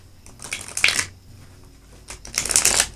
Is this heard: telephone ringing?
no